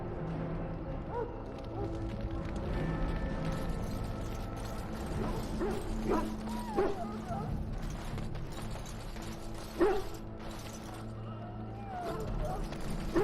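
Hounds in a military camp in the video game Dragon Age Origins, several sick with darkspawn blood, bark, yip and whimper intermittently at moderate distance while people talk over a busy camp background.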